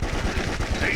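MP44 assault rifle fire in the retro shooter Darkenstein 3D: a brief, close, rapid string of automatic shots rattles out, with a voice talking over it.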